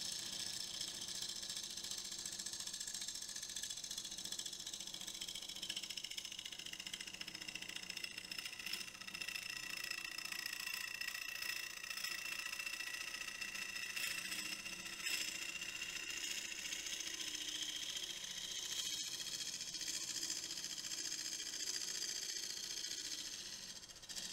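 Wood lathe spinning a double crotch elm hollow form filled with epoxy resin at 750 RPM: a steady, even mechanical whir with a faint high whine, running continuously and evenly at moderate level with no voices.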